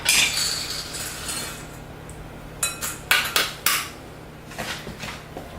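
Semi-sweet chocolate chips go into a bowl for lava cake, giving a cluster of light clinks and small rattling impacts against the dish, with several separate hits near the end and no talking.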